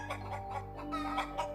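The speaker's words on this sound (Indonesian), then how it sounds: "Ayam mulai berkokok sayup-sayup" Roosters crow faintly at daybreak on the slopes of Mount Merapi, with repeated clucking calls over a steady low hum, with no voices.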